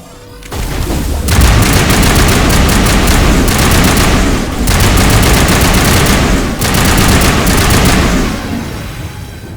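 Heavy gunfire erupts in the video game Mass Effect: sustained automatic bursts rattle loudly for several seconds, broken by a few short pauses, with no talking over it.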